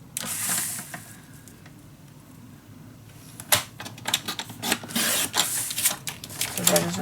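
Paper being cut straight for a steampunk Christmas craft project, heard as dry rasping strokes and crisp snips that grow busier in the second half, close up with no talking.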